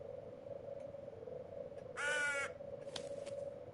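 One loud, rasping crow caw in the horror game Visage, followed by a fainter second call, over a steady low hum.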